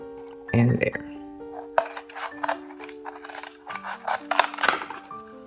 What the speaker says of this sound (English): you can simply cut it into 3 pieces using a pair of scissors